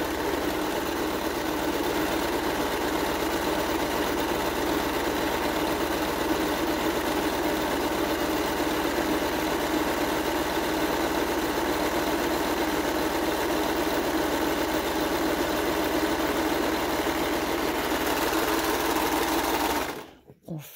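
Zigzag stitching on a legging's seam allowance keeps a sewing machine running steadily for around twenty seconds, a close, continuous rhythmic hum with fast needle chatter that stops abruptly at the end.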